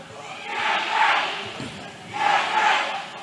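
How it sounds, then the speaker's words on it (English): A basketball crowd at an international boys' championship final cheers for Gateway in two broad swelling roars that rise and fall, heard from within a large indoor court. "the Gateway crowd loves it already"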